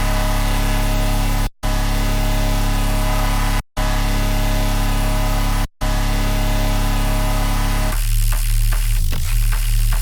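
A steady, harsh buzzing tone is cut off briefly three times, then turns into a softer, smoother hiss of noise.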